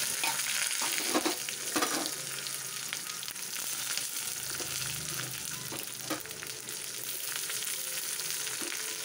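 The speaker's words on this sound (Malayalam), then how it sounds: "ഇനി ഉള്ളി, മുളക്, കറിവേപ്പില അതിടാം." Onion, chilli and curry leaves fry in hot coconut oil with mustard seeds, giving a steady, fairly quiet sizzle with occasional crackles and faint stirring, and no voices.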